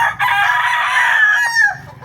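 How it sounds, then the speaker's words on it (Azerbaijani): A fighting rooster crows once, a long drawn-out cock-a-doodle-doo, loud and close, with no voices. "Çox da gözəl xoruzlardı."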